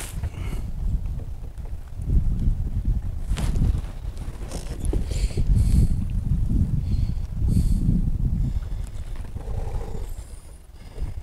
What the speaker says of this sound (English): I do wish we would get that wind to calm down just a tad for a minute.